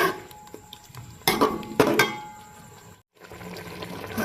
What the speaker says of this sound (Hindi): अब मसालों को हमने अच्छे से भून लेना है।